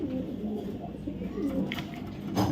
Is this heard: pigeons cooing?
yes